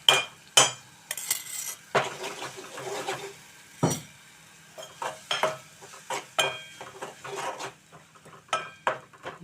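Spinach with onion chili paste cooks on a medium flame in a pan, a soft sizzle under repeated close clanks and scrapes of a spoon against metal as it is stirred in irregular bursts, with no voices.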